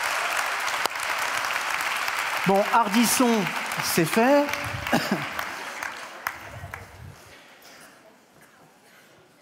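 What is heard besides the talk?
audience applause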